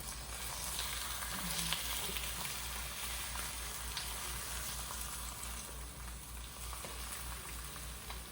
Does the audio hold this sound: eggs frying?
yes